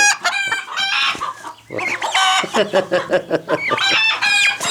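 A rooster and hens in a full chicken coop cluck and call loudly and close by, a busy run of overlapping squawks and clucks with no pauses.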